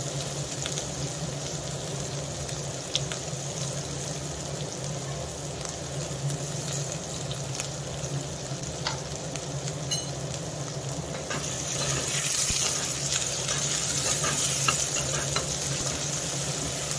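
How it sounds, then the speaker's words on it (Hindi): Finely chopped onion sizzles steadily in a pan with cumin powder, a close, continuous hiss and crackle with faint stirring scrapes, growing slightly louder near the end, with no talking. "तो बारीक कटी हुई प्याज डालूंगी मैं।"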